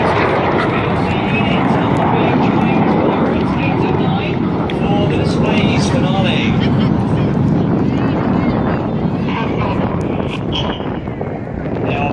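A synchro pair of display aircraft flying double rolls at an air show, a loud continuous jet roar with wind buffeting, while an announcer talks over it.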